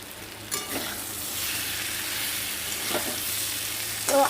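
Pumpkin and fish curry being sautéed in a pan, with a steady broadband sizzle throughout and a few louder scraping stirs partway and near the end.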